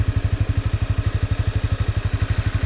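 A Honda CBR250 motorcycle engine runs close by at a steady, fast idle, its even throbbing pulses repeating rapidly and loud, with no voices over it.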